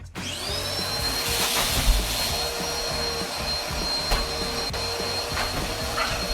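A vacuum cleaner runs steadily up close, a loud sustained motor whine with a high airy hiss and occasional bumps and knocks, no one talking.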